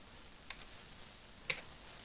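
Two separate keystrokes on a computer keyboard, spaced about a second apart, soft and crisp against a quiet background.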